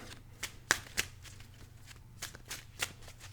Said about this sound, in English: shuffle it up and get a sign from Spirit